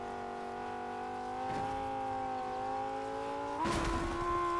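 A car engine hums steadily in the Fortnite video game, its tone rising and shifting as it drives, with a louder burst of noise near the end.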